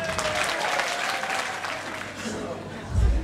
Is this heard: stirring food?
no